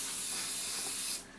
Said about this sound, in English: I'm just going to spray a tiny little bit of Windex in there